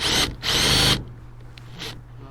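Power tool tightening the clamp of a soft roll-up tonneau cover on a Ford F-150 SuperCab truck bed: two loud close bursts of whirring, a pause, then a shorter fainter burst, over a steady low hum.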